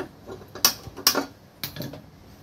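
A stove under a kadai (wok) clicks on with a few sharp, close ignition ticks, three distinct clicks spaced under a second apart against a quiet background.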